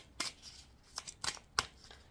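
Tarot cards being shuffled and drawn during a reading: a few short, crisp papery riffs and snaps, spaced irregularly, close and fairly quiet with no talk.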